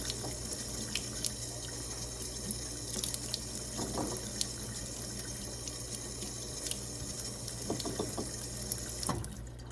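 Tap water runs steadily into a sink as eggs are wetted under the stream, a constant quiet gush with occasional clinks and knocks of shells against a bowl.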